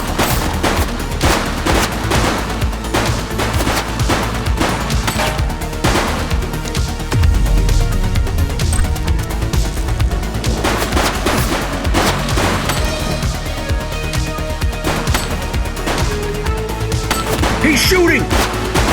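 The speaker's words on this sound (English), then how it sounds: "He's shooting!" Rapid bursts of automatic gunfire from the video game The Precinct crackle nearly nonstop at close range, loud and dense, with voices occasionally talking over the shooting.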